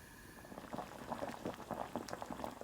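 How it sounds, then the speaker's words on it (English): A pot of sweet potatoes, gardenia fruit and chestnut syrup in water bubbles on the stove, soft irregular popping and gurgling with small bursts, fairly quiet and close, no voices. "Once it has started to bubble, cook on low heat for 10 minutes"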